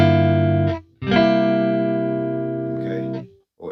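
An electric guitar chord voicing for a song rings out twice, a short strum cut off, then a longer sustained strum fading slowly, with no talking.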